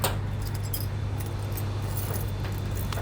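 Keys jangle in light, scattered metallic clinks over a low steady hum.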